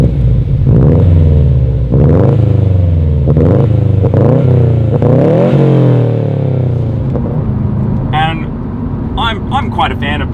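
A deep, burbling Subaru WRX STI boxer engine with an aftermarket exhaust revs up repeatedly in rising sweeps, loud and close, with crackles and pops as it settles.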